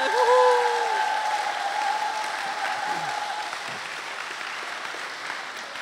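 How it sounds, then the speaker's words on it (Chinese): An audience applauds at a Catholic church's fiftieth-anniversary thanksgiving concert as a visiting sisters' choir is introduced. The clapping is steady and sustained, and a faint sung or whistled tone floats above it at the start. "掌声"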